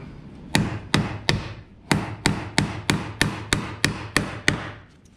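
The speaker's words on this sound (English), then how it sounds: "Sometimes it's easy in a close quarter to hit your nail with the side of the hammer." A hammer strikes a nail about a dozen times in a steady rhythm in close quarters while building a skid house, each blow sharp and ringing, with a short pause after the first few hits.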